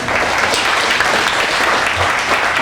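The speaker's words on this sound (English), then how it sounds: "Can we give Fred a round of applause?" A loud, steady round of audience applause for Fred at a Hispanic chamber of commerce breakfast, continuous dense clapping filling the whole stretch without pause.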